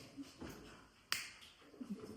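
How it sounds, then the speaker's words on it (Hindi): A single crisp finger snap rings out close and sharp in a quiet room, a lone bright click amid faint background sounds. "अब मैं जो ही चुटकी मारूंगा आपकी आंखें खुल जाएंगी"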